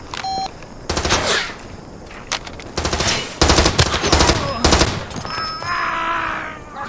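Loud automatic gunfire from the game Far Cry 2 comes in several rapid bursts separated by short gaps, with beeps and game sounds between them.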